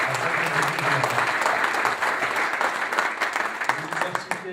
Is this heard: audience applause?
yes